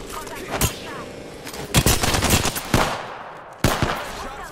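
Video game shootout with rapid automatic gunfire: loud bursts of repeated shots and single sharp cracks, some close and some overlapping, over a steady noisy background.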